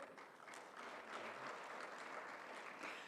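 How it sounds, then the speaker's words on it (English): Audience applause at a conference opening ceremony in Kigali, a faint but continuous crowd clapping heard from a distance, even in rhythm and level throughout. "Another big round of applause for RBC,"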